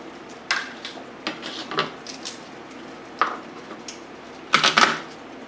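Garlic cloves being crushed in a kitchen, likely with a knife blade on a board: a few sharp, separate cracks and knocks spaced irregularly, close and fairly quiet, with a denser cluster of impacts near the end and no one talking.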